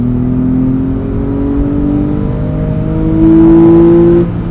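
A 2009 Porsche 911 Carrera 4S engine hums steadily and then revs higher for a moment before settling, heard from inside the car with road noise underneath.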